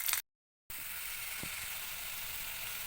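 Onion, garlic, tomato, whole cumin and bay leaf fry in mustard oil with a steady close hiss. A brief silent gap comes near the start, and a faint tap follows a little later.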